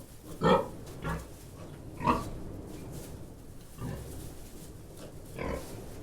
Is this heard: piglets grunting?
yes